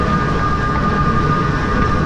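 A subway train rumbles at Pentagon City Station, a loud, steady broadband roar with a faint whine, continuous and close with no voices.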